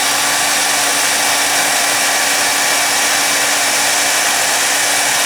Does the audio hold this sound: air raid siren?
no